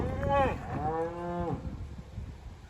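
Cattle being gathered off a forest range let out two drawn-out moos nearby, the second long and wavering, followed by quiet rustling.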